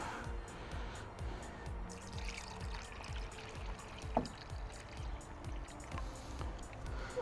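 Water pours steadily into an empty container in a camper-building workshop, a continuous gurgling trickle with small drips and one sharp knock midway, fairly quiet and close.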